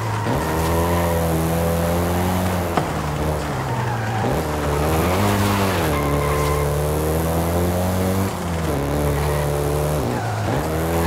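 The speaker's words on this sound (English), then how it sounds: "including the Golf GTI you're driving right now" Volkswagen Golf GTI driving in Forza Horizon 5, its engine droning loud and close with repeated revs rising and dropping through gear changes and occasional tire squeal, continuous throughout with no speech.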